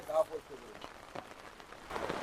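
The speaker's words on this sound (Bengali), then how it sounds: "বৃষ্টি তো অনেক বেড়ে গেছে" Rain falls steadily on surfaces in a quiet, faint wash with a soft patter, while a voice speaks briefly at the start.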